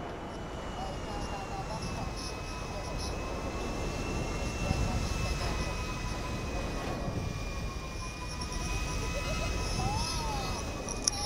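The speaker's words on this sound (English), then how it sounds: "Yo, I'm trying to steal this plane." A plane's engine in Grand Theft Auto V drones steadily throughout with a constant rumbling hum, while people talk over it.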